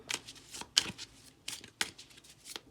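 A deck of metaphorical game cards shuffled repeatedly nearby, crisp papery flicks and riffles in uneven bursts against a quiet background.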